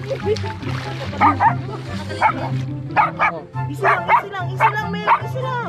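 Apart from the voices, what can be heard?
dog barking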